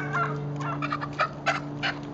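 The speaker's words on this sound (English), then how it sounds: "Put the chicken down and get it again." A chicken clucks in short, uneven bursts while a toddler chases and grabs it outdoors, the calls fairly close, with a steady low background hum underneath.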